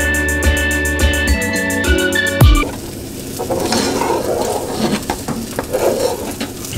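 Meat sears on both sides in a hot pan with a steady close sizzle, with occasional utensil scrapes. A short tonal tune plays before the sizzle starts.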